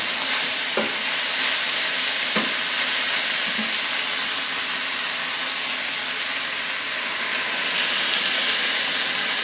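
Beef mince fries in a hot pan with a loud, continuous sizzle, broken by a few brief clinks of a utensil stirring near the start.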